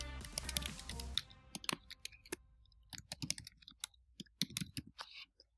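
Computer keyboard keys tapped in irregular bursts while an email address is entered, close and soft, with a denser clatter of keys at the start, no voices.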